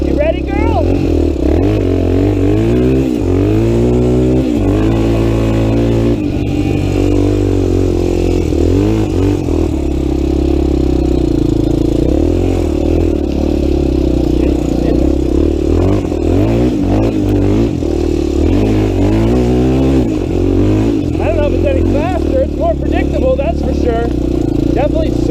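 A Honda 350X ATV fitted with a Honda 400EX carburetor is ridden along a trail. Its engine drones loud and close throughout, with the pitch rising and falling as the throttle is worked.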